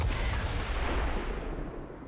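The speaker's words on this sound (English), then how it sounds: "Nice explosion." A short, fairly quiet deep booming blast from XCOM 2 during a terror mission, a low rolling rumble that sustains without any talk.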